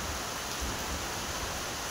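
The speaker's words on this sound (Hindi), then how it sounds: "सुहाना मौसम हुआ है, बारिश आ रहा है।" Steady rain falling on a pleasant, cool day, an even hiss of dense drops, continuous and moderately faint.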